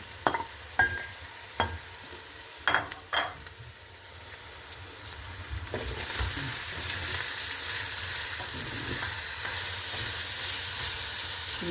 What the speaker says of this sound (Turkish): Şimdi soğanımızı ilave ediyoruz. Bunun soğanı bol olacak.